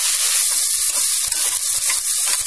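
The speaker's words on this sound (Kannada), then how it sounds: "ಕರಿಬೇವು ಹಾಕಿದ್ದೀನಿ, ಜೊತೆಗೆ ಇವಾಗ ನೆನೆಸಿಟ್ಕೊಂಡಿರೋ ಮೆಂತ್ಯ ಕಾಳು ಹಾಕ್ತಾ ಇದ್ದೀನಿ." Soaked fenugreek seeds drop into hot oil with curry leaves for pongal, setting off a steady, close hiss and sizzle with soft crackles throughout and no talking.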